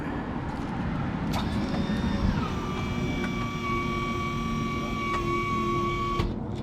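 A hydraulic pump raises the cab of an LMTV truck with a continuous electric whine that shifts pitch partway through, punctuated by a few short clicks and clunks.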